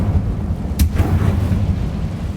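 Incendio fire spell cast in the game Hogwarts Legacy, a short deep whoosh and burst with a sharp crack layered over a heavy rumbling game soundscape, no speech.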